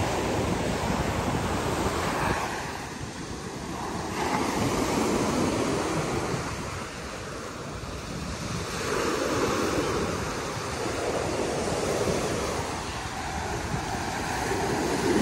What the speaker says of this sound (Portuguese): Maravilha esse barulho do mar, hein?